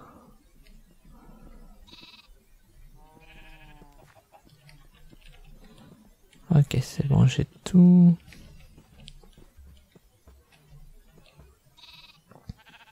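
A sheep bleating in the Minecraft video game, heard as a few short wavering bleats scattered across quiet background, with a brief burst of other noise in the middle and a person speaking briefly.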